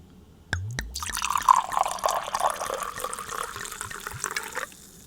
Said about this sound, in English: Put your volume up. Time for the pour.